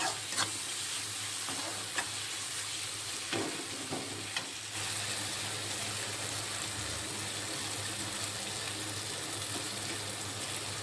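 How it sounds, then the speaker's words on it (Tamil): Tomatoes fry and sizzle in a pan for a Tamil vadacurry, with a steady close sizzle under occasional spoon scrapes and stirring knocks, no talking. "தக்காளி இன்னும் நல்லா மசிய வேகணும், வதங்கணும்."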